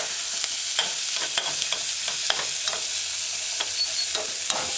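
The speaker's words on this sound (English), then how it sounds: "add the garlic. Stir it in." Garlic and vegetables sizzling in a pan on a medium-low stove for a codfish cauliflower tomato stew, a soft steady fry with scattered spoon scrapes and clicks as they are stirred, no voices.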